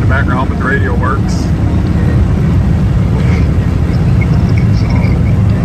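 A classic finned car with a 348 engine cruises at about 60 mph just under 3,000 RPM, giving a loud, steady low road-and-engine drone throughout, with a radio playing faintly in the background and a voice speaking briefly.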